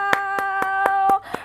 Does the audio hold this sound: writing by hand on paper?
no